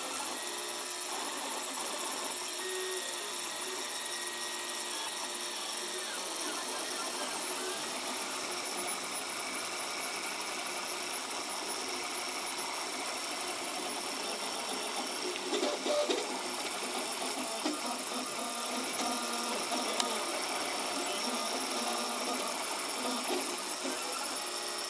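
3D printer running with its print bed moving, a steady mechanical whir and stepper motor hum with faint squeaks, constant and close throughout.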